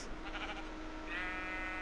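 A Minecraft sheep gives a single clear bleat about midway through, a nasal wavering call over the quiet, steady hum of the game.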